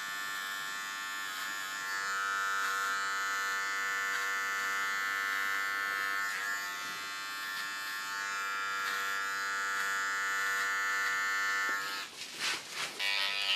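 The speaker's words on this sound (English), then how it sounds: "With my special tattoo clipper," A close, steady electric tattoo clipper buzzes continuously while cutting a tattoo design into short hair. The drone stays even for most of the stretch, then breaks into short rustling bursts near the end.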